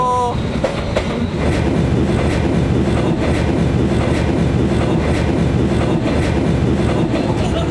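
A train rolls through a narrow street crossing in Hanoi, loud and close. Its steady rumble carries rhythmic clickety-clack wheel beats and a brief squeal at the start, with no talking.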